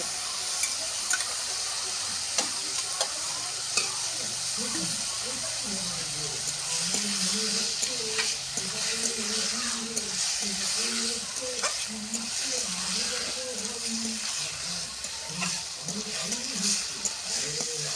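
Potatoes sautéing in a pan, a steady close sizzle and frying hiss with scraping stirring strokes running throughout, while a voice talks over it.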